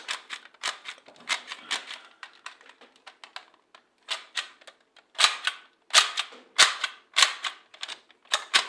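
A Nerf Quadrant toy blaster being cocked with its barrels rotating, producing a rapid series of sharp plastic clicks and ratchets in uneven clusters, close and crisp with no talking.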